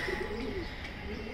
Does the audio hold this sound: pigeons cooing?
yes